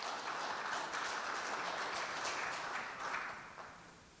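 Audience at the 40th WFMT congress in Busan applauds to welcome a speaker to the stage, a steady, moderately distant wash of clapping hands that holds evenly and then gradually tapers off toward the end.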